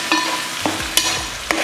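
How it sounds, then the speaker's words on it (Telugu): A spoon scrapes and stirs chicken curry masala through hot oil in a pan: a constant sizzle broken by several distinct scraping strokes, close and clear. "వేసిన తర్వాత ఒక్కసారి కలబెట్టుకుందాము"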